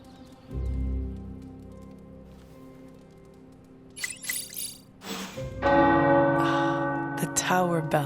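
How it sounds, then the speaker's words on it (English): Tower bells in Marvel's Midnight Suns ring out over game ambience, a heavy bell tolling early, then a bright, layered peal of several bells building loudly in the second half, with rain-like texture underneath. "The tower bells are ringing."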